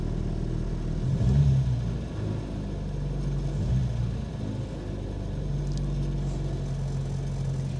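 A 1950s Austin A40 Somerset idles steadily with a low, even rumble, heard from close behind the car, its pitch swelling briefly as it is gently revved.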